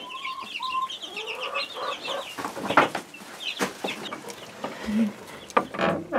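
Hens cluck and squawk close by near their coop, with repeated bursty clucks and higher calls overlapping one another across the whole stretch, lively and fairly near.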